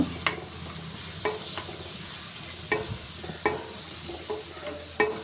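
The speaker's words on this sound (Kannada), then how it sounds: "ಈಗ ಒಂದು ಸ್ಪೂನಷ್ಟು ಶುಂಠಿ ಬೆಳ್ಳುಳ್ಳಿ ಪೇಸ್ಟ್ ಹಾಕ್ಕೊಂಡು ಇದನ್ನು ಅಷ್ಟೇ ಹಸಿ ವಾಸನೆ ಹೋಗೋವರೆಗೂ ಫ್ರೈ ಮಾಡ್ಕೋಬೇಕು" Ginger garlic paste fries in a pan for okra masala gravy, a steady close sizzle broken by sharp scraping strokes of a spoon stirring at irregular intervals, with no talk.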